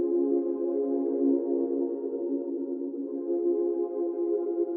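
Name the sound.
synth preset made by Electrics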